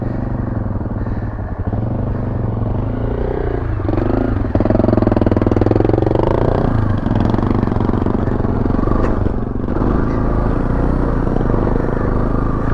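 A 2019 Beta Alp 4.0 motorcycle engine labours up a chalk hill, a steady loud droning roar with clutch-slipped revs rising and falling throughout, close to the rider with no talk over it.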